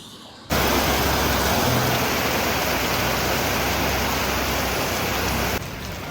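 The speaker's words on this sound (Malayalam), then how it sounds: "മഴ പെയ്തിട്ടാ അടിപൊളിയായിട്ട് മഴ വീണ്ടും പെയ്തു" Heavy rain pours down outdoors in the UAE during a night storm with strong wind, a dense, loud, unbroken rush that starts abruptly and continues steadily, with no voices.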